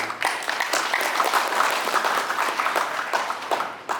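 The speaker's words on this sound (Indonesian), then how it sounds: "Tepuk tangan." An audience at a regional Islamic organization meeting claps together in a loud, full round of applause with distinct individual claps, sustained for a few seconds before fading.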